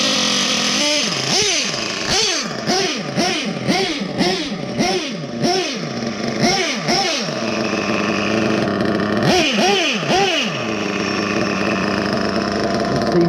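A Picco P7-R nitro engine in a TLR 8ight X Elite RC buggy on blacktop revs in a rapid series of high-pitched rising and falling throttle blips, pauses briefly, then blips again, loud and close, with no talking.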